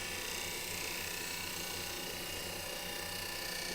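A wood lathe runs steadily at 2,000 RPM while a spindle gouge works a thrift-store glass-turned-vase blank, giving a continuous, even mechanical whir with a faint rhythmic ticking, close and uninterrupted.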